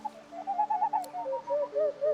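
Owls in an enclosure in Divinity: Original Sin 2 cooing in soft, wavering repeated hoots, close and clear over a low steady hum.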